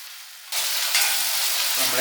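Small onions and tomato sautéing in a pan, a quiet moment that jumps into a loud, close sizzle with stirring for a brief stretch.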